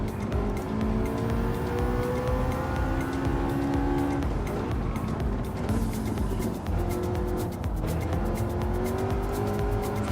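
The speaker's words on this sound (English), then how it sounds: "You hear music and engines, so you hear the car too." Race cars in Gran Turismo 7 drone loudly and continuously, with engine tones climbing and falling through gear changes and occasional tire squeal, a dense unbroken mix with no talking.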